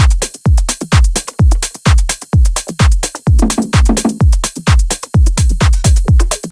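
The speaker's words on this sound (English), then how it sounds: "So now let's play our drums right now." A loud, punchy drum loop built on Splice kick samples with gain added, heavy booming kicks hitting in a steady driving pattern with sharp percussion between them, no voices.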